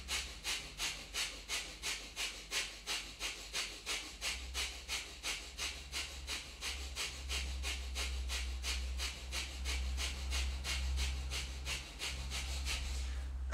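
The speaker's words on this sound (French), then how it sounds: "respirez profondément. Respiration du feu très puissante." Breath of fire in a Kundalini yoga class: fast, powerful rhythmic exhalations pumped through the nose at a steady rate of about two per second, close and continuous for the whole stretch, over a low hum.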